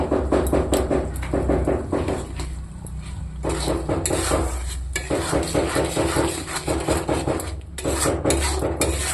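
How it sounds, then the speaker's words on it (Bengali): Onion stir-fries in a pan with salt, chilli powder and turmeric, a spatula scraping and stirring in steady rhythmic strokes over a continuous sizzle, loud and close. "এটা দিয়ে আমি ভালো করে কষিয়ে নেব।"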